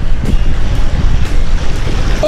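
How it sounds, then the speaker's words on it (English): Rushing water and wind buffet a kayak running river rapids on the Delaware River, loud and close with rumbling low surges and periodic splashes breaking through the steady roar. "Will I make it through these rapids?"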